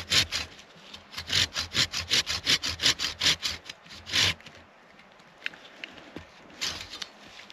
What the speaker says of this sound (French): c'est là que je vais venir avec ma scie